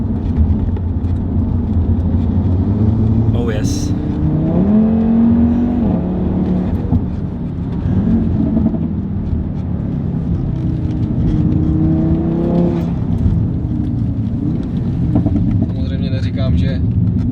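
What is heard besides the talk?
Audi RS3 Revo engine accelerating in loud mode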